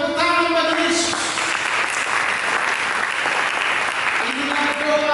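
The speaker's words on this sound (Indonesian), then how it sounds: "Berikan tepuk tangan bagi Yesus." A church congregation claps for Jesus during a Sunday sermon, with loud sustained applause running throughout and tonal voices or instruments sounding over it at the start and again near the end.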